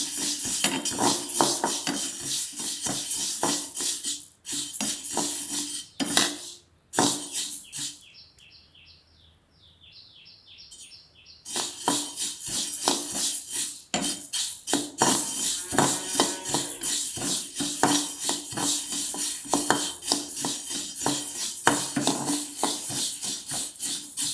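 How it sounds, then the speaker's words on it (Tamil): Fenugreek seeds dry-roasting in a pan, dense rattling and scraping from stirring close by, pausing briefly midway before the busy scratching resumes. "நூறு கிராம் எடுத்து வறுத்துட்ருக்கேன்"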